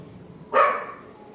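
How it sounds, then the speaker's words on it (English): A dog gives a single sharp bark at night, fairly close and clear, then fades into quiet background. "As a dog barks in the night."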